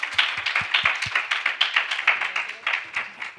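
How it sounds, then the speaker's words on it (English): Audience applause at a K-pop convention Q&A in Toronto, a moderate spread of clapping hands with some sharper close claps at the start, steady and fairly light throughout. "let's give a round of applause to Leah"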